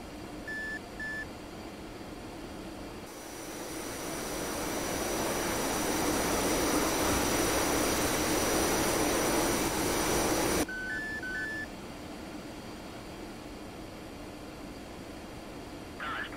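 Jet aircraft engine in the DCS World flight simulator, a steady roar that swells to a loud sustained whine while taxiing, then drops back, with short electronic beeps near the start and end.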